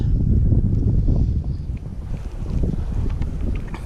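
Strong wind blows across a fishing spot, buffeting the microphone with a loud, constant low roar that barely lets up.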